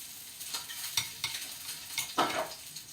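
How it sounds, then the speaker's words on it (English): Eggs being stirred with a utensil scrape and clatter in a pan while sausages sizzle and fry, a soft steady crackle broken by a few louder stirring strokes. "Stir the eggs. The sausages."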